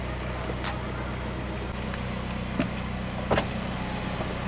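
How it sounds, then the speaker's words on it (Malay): Steady low hum of a Mini Cooper GP engine idling, with a few brief clicks and one louder rev-like swell near the end, no talking. "Kita pergi dengar bunyi Mini GP ni macam mana, padu tak padu, korang judge sendiri."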